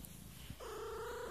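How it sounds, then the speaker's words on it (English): A pet cat vocalizes while being petted and given belly rubs, a soft rising trill that settles into a steady, sustained purr-like tone lasting about a second, close to the microphone with no talking. "If you hear little cat noises, that's because she's getting some loves."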